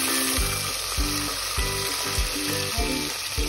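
Tomatoes frying with onions and whole spices for vegetable biryani, a loud close sizzle with rhythmic stirring scrapes repeating about every half second, no voices.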